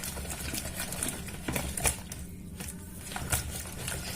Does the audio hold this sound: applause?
no